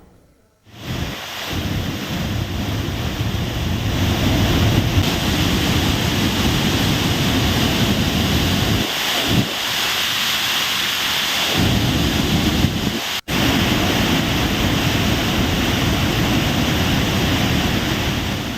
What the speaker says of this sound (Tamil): திருப்பரப்பு அருவியில் அருவியே அடையாளம் தெரியாத அளவிற்கு வெள்ள நீர் மூழ்கடித்து செல்கிறது